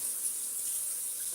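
Tap water running steadily into a sink as a spoon is rinsed off during home cooking, a soft continuous hiss heard alone for a brief moment.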